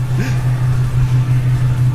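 A 550 HP Mustang GT V8 idles with a deep, steady low rumble and slight pulsing, heard from close by inside the car with no speech over it.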